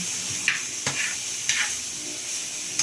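Food being stirred in a frying pan over a steady sizzle, with a few soft scraping strokes of the utensil at irregular intervals; close and fairly loud, with no talking.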